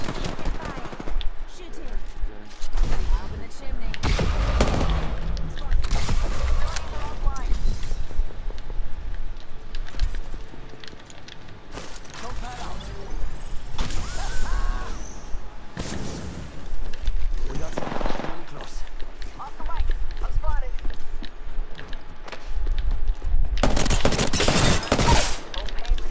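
Sustained gunfire in an Apex Legends ranked match, with loud bursts of rapid shots and heavy blasts that come and go over a steady game din while players talk throughout.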